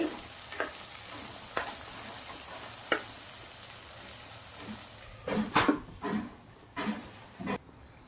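Onion and peas roasting in a pan for a village-style garlic vegetable dish give a steady low sizzle, with several sharp stirring scrapes and clatters toward the end, nobody talking.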